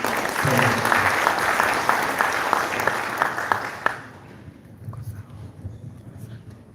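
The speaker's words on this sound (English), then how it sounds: "let's give them just a round of applause" Applause from the audience at a Greater Horn of Africa climate outlook forum, a full, even burst of clapping that lasts about four seconds before tapering to a few scattered claps in a quieter room.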